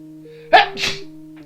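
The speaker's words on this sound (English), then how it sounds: "Oh, excuse me. I just sneezed." A single sharp sneeze bursts out close by over a steady electronic hum from the video game Sepia Tears, followed by a brief breathy tail.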